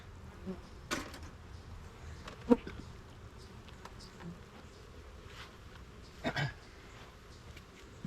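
Honey bees buzz in a freshly opened, smoked hive kept for observation bees, a low steady hum with a few louder passes of individual bees near the listener.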